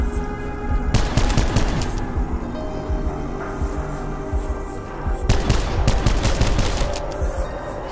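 Rapid bursts of automatic gunfire in the Black Ops 4 Zombies map Blood of the Dead, one dense volley near the start and a second longer burst later, over a steady background of game ambience.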